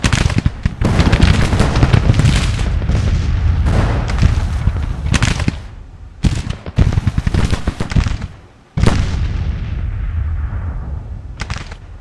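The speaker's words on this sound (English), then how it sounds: "Guys are firing away from one range." Civil War musket volleys ring out in the Grand Tactician strategy game, with dense overlapping rifle cracks and booming reports rolling continuously, briefly thinning before another loud burst and a fading echo.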